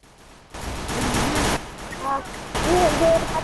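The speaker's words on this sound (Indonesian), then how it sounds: "Itu namanya tembakan ancaman, teman-teman ya." Warning shots ring out in the Free Fire battle-royale video game as several loud, broadband bursts. The first is a longer burst, then shorter ones follow with brief gaps, over faint game sounds.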